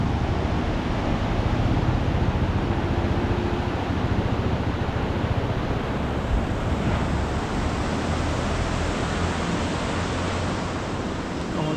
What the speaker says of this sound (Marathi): पाणीचं प्रमाण कमी झालं आहे, पण ते खळखळ वाहतच आहे अजून जास्त.